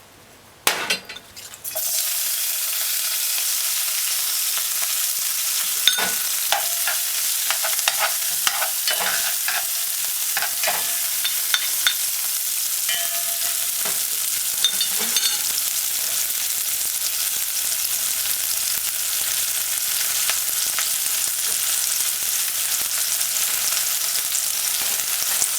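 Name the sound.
seasoning frying and being stirred in a pan for ackee and saltfish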